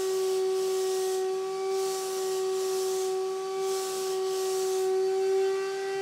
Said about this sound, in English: what a sprayer does is it breaks up the paint into tiny, tiny little droplets